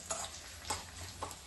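Tempering spices fry in a pan with a faint, steady sizzle and soft periodic scraping or stirring strokes at a slow even pace. The sound is quiet and close, and no one speaks.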